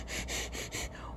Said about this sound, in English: I notice you're panting.